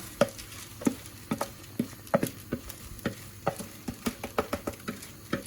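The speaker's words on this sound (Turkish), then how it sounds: "Güzelce karıştırıyoruz pirincimizi. Bu şekilde karıştırarak kavuruyoruz pirinci." A spoon scrapes and taps against a pot in quick, uneven strokes while rice toasts in melted butter, sizzling softly underneath.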